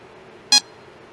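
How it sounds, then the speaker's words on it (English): A Mastercool refrigerant leak detector gives one short, sharp electronic beep, loud and close, against quiet background hiss. "listening for a change in the beeping or tone to indicate that we have a leak"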